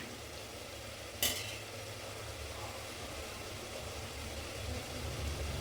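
Chilli powder and spices frying in oil for mentya bath, a steady low sizzle and stir with a single sharp clatter early on, close and moderately quiet, no talking.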